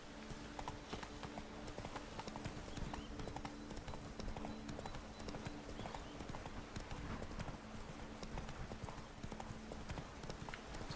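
Roach the horse trotting in The Witcher 3 video game, a steady rapid clip-clop of hooves running continuously and fairly close, with faint game ambience and occasional speech beneath.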